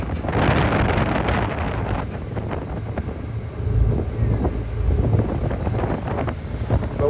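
Strong wind buffets the microphone on the deck of a large ferry sailing from Cebu to Bohol in rough 2-to-3 metre seas near Typhoon Noru, steady gusty roar with low rumbling surges and water noise throughout.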